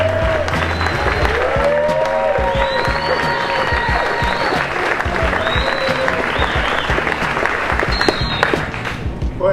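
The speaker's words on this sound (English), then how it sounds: "please, give a big hearty hand to the man I'm going to bring up, Mr. Rabbit Kikai." Sustained audience applause for a surfing figure being brought on stage at a Costa Rica surf event, a dense, steady wash of clapping from a large crowd with some cheering mixed in.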